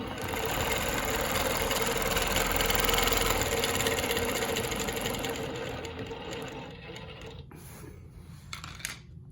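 A longarm quilting machine stitches a Baptist fan pattern, its loud steady rapid whirring hum running continuously before tapering off with a few clicks near the end.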